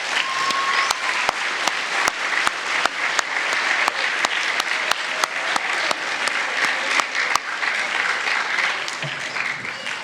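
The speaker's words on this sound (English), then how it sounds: "Let's give these a round of applause" An audience at a school end-of-year awards ceremony claps steadily, a dense, even patter of many hands with a few sharp individual claps standing out, lasting the full stretch without fading.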